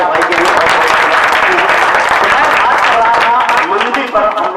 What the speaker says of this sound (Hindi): एक बार चाहूंगा तालियां बजा दीजिए आपके भाई के लिए।